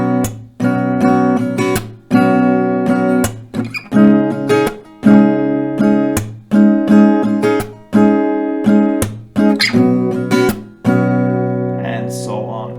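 Acoustic guitar strums the chord pattern of a song, two strumming rounds per chord in a steady back-and-forth rhythm of bright, close strums with brief muted breaks between chords.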